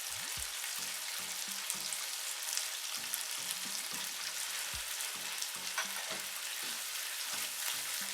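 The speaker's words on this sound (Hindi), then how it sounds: "शामिल करेंगे हरी मिर्चों का पेस्ट।" Green chili paste sizzles and fries in a pan with peas for aloo matar pulao, a steady crackling hiss broken by soft irregular stirring scrapes, close and fairly quiet with no talking.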